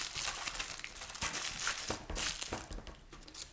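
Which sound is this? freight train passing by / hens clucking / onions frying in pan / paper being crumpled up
paper being crumpled up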